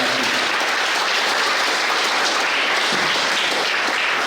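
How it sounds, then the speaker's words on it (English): Steady, full applause from the audience at a primary school graduation, a dense wash of clapping holding at an even level throughout. "I think they deserve a tremendous round of applause for them."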